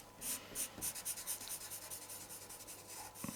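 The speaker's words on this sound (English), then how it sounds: "fill them out here with a nice underpainting, of pastel pigment" Orange Stabilo CarbOthello pastel rubbed onto paper for an underpainting: close, steady scratchy strokes in a rhythmic back-and-forth pattern, about a dozen passes, with no talking.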